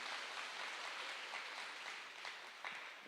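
Church congregation at an AIC service in Kiambu applauding for the Lord Jesus; a thick, continuous roll of many hands clapping, fairly soft and steady, gradually easing slightly toward the end, with no voices over it.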